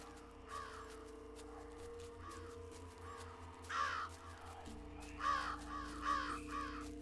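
Crows cawing in the video game Jenny LeClue, a series of harsh caws arriving in bursts, a few single calls then a rapid cluster, over a low steady musical drone with no talking.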